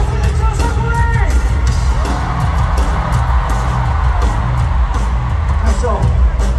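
A large concert crowd at a show in Singapore roars and cheers in a dense, constant wash of noise, with a voice over the crowd.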